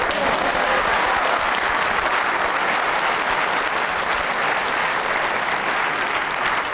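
Enthusiastic applause from the crowd at the Crucible during the 2005 World Snooker Championship, a full, continuous roar of clapping filling the hall at steady loudness.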